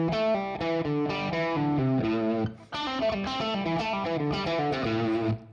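Distorted electric guitar plays a rock-blues lick with open, unmuted picking and legato pull-offs, ringing notes in quick runs, with a brief pause midway before the phrase resumes; no talking.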